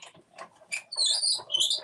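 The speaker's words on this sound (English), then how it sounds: "So I'm just going to put it through my cut and emboss machine, and you might hear it squeak." A cut and emboss machine squeaking as paper passes through it, giving a few short, high, chirping squeals much like a bird, close and fairly faint.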